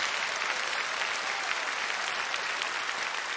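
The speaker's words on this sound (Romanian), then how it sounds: "Aplauze, vă rog." A crowd at a stand-up comedy show bursts into sustained, even applause, a dense and continuous clapping sound that holds steady for over three seconds.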